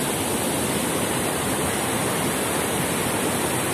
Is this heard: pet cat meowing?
no